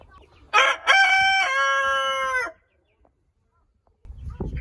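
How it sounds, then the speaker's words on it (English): A rooster crows loud and close on a Florida farm, one long harmonic call of about two seconds, followed by a short silence and then low rustling farm noise. No clucking hens stand out. "We have lots of chickens here,"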